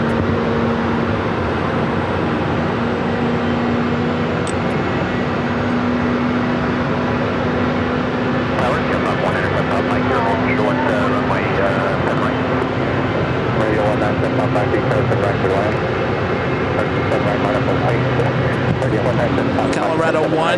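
An Air Canada A320 airliner at Phoenix airport gives off a steady jet engine drone with a constant low tonal hum, heard alongside ongoing chatter and occasional sharp clicks and bursts of noise.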